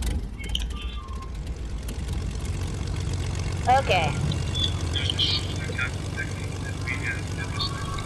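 Steady low propeller-aircraft engine drone from a plane in a shooter video game, continuous throughout under a brief spoken word, with a short chirping burst of game effects midway.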